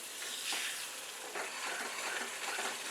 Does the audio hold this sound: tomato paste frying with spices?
yes